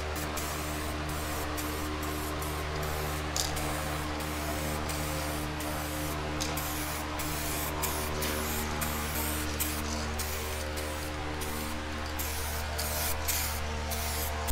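Spray gun laying gloss coats onto a Honda VT500 Shadow bobber motorcycle tank, a steady continuous hiss with a constant compressor-like hum underneath, close and unbroken throughout, no talking.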